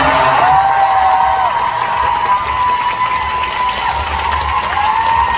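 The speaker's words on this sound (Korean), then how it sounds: "우리 댄서분들께 다시 한 번 큰 박수 부탁드립니다." Concert audience at an encore show applauding and cheering for the dancers, a dense, loud, continuous wash of clapping and shouts that sustains throughout.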